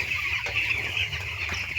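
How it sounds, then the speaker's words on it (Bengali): Chicks on a poultry farm chirp and cluck softly in a constant, close chorus of high peeps. "দেখো মুরগি বাচ্চাকে জল দেওয়া হয়েছে"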